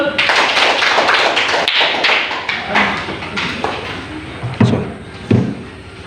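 A classroom of students claps hands together in a loud, fairly quick burst of overlapping claps and taps that thins out into a few separate knocks toward the end.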